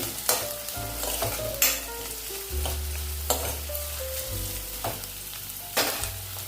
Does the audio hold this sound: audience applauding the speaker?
no